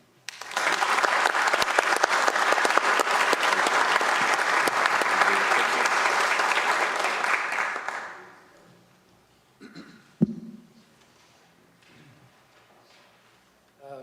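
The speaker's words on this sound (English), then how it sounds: "another round of applause for that team" An audience at a city council meeting applauds the fleet and facilities team in a long, dense, steady burst of clapping that fades out around eight seconds, followed by quiet room noise and a single knock.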